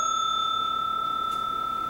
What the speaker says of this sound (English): ring that notification bell so you never miss a new